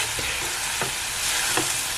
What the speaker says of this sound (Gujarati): જે લીલી ડુંગળીનો ગ્રીન પાનનો ભાગ છે ને તે પણ એડ કરીશું અને તેને પણ સરસ રીતે આપણે મિક્સ કરી દઈએ